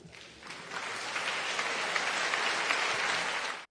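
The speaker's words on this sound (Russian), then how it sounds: "Бурные овации." Loud, sustained applause from a large crowd, a dense roar of clapping that swells quickly and holds steady for several seconds before cutting off.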